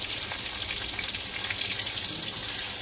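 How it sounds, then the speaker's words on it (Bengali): Crushed garlic sizzles and fries steadily in hot oil, a continuous close crackling hiss with no voices. "রসুন দিয়ে দিলাম তেলের মধ্যে"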